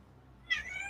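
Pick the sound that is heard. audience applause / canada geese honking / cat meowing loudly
cat meowing loudly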